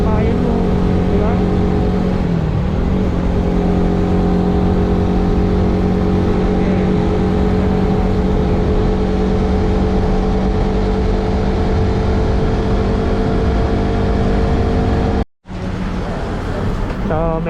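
A car engine drones steadily and loudly during a ride toward Sagada while overtaking large trucks, a continuous close hum with harmonic whine, wind and road roar, and people talking over it.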